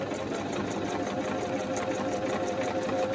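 A sewing machine stitches the pages of a handmade journal, giving a continuous, even mechanical whir with rapid rhythmic ticking from the needle, loud and close with no voices.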